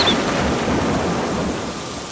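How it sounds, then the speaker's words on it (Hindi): Cartoon-style thunderstorm sound effect: a steady, loud wash of rain with low rumbling thunder underneath, with no voices. "देखिए जी, अब बारिश शुरू हो गई है।"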